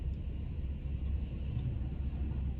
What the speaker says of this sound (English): I'm stuck here because the trash truck is here.